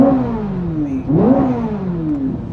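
A Chevrolet Corvette C8 Z06 engine revs in neutral, sharply up and falling back, its pitch sweeping up and down twice in a loud, close growl with no talking.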